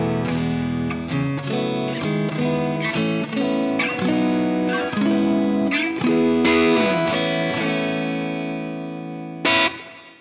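Neck pickup of a Friedman Vintage S electric guitar playing a steady run of overdriven, sustained notes and chords, loud and close, ending in a short bright pick scrape.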